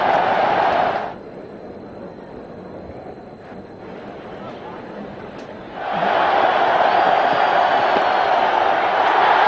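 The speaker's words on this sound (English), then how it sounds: "The crowd is delirious." A packed cricket stadium crowd roars for a batsman's fifty in an India versus West Indies run chase, a loud sustained wash of cheering that drops away for several seconds and then surges back just as strongly.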